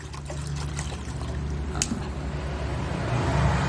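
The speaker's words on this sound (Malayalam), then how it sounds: "നിറച്ച് വെള്ളം ഒഴിച്ച് തന്നേക്കാം" Water pours and trickles steadily into a bowl, a continuous splashing flow with faint background rumble.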